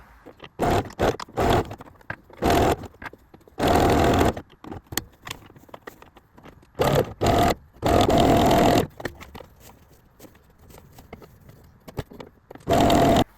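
A sewing machine stitches small fabric items for a small business in short, loud bursts that start and stop repeatedly, with quiet gaps between runs.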